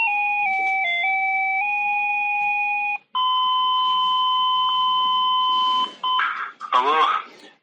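Steady electronic tones sound on a telephone line while a call is put through. Long flat beeps change pitch in stages, with a short gap near the middle, then end in a brief warbling burst of line noise.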